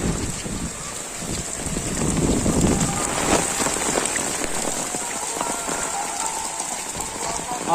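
Heavy storm rain pours and patters steadily on surfaces, a dense hiss with gusts of wind and a voice faintly under it.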